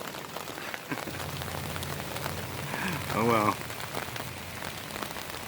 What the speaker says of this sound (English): I get caught by the rain